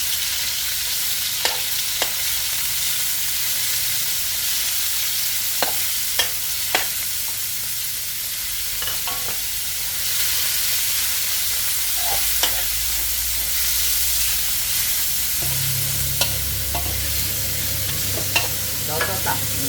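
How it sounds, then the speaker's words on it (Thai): Minced pork stir-fried in a hot pan, sizzling steadily and close up, with intermittent scrapes and clatters of a utensil stirring the meat throughout. "แล้วก็เอาหมูลงไปผัดนะคะ เอาหมูสับลงไปผัดค่ะ"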